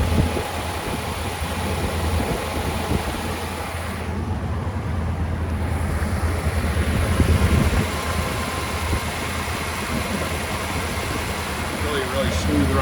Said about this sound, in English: Really smooth running engine.